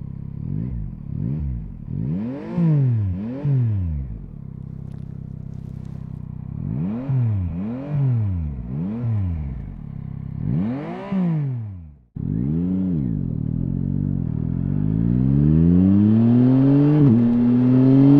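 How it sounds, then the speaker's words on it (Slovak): Yamaha Tracer 9GT three-cylinder engine, close and loud, blipping through a rapid series of rising and falling revs, then pulling in one long climbing run with a quick shift near the end. "Čím si ma však Yamaha získala, je zvuk jej trojvalcového motora."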